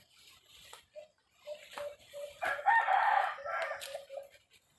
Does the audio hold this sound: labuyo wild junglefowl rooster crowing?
yes